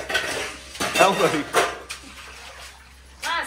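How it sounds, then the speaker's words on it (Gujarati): Dishes are washed and scrubbed with water in a floor-level washing area at home, with clattering pots, scraping and splashing in uneven bursts. Someone speaks briefly over the noise. "ચોકડીમાં વાસણ ઘસી દીધું"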